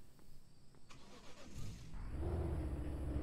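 A car engine in Car for Sale Simulator 2023 cranks briefly, then catches and settles into a steady, low idle. The sound is fairly quiet and there is no talking.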